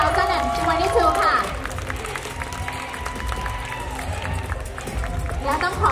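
Audience applause for the top 10 contestants at the Mister International Thailand 2022 pageant, a steady crowd wash under a host's amplified voice and background music throughout.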